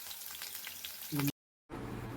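Pork sizzles steadily as it fries in a hot pan after being boiled with turmeric, salt and chili powder, broken by a brief voice and a short moment of silence before the frying resumes.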